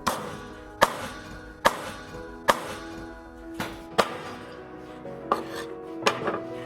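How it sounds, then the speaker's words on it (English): Lamb being chopped into generous pieces with some bony foreleg, heard as about eight loud, sharp knife strikes on a board at a steady, roughly even pace, close and alone. "The lamb is chopped into generous pieces"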